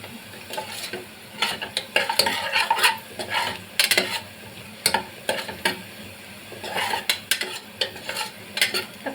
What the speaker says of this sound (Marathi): कांदा चांगला भाजलेला आहे